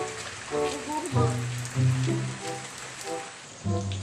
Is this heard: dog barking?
no